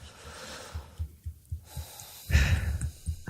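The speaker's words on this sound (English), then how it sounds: "Take a deep breath." Slow, audible breathing fills a quiet room, with soft repeated inhales and exhales and a deeper, louder intake of breath near the end.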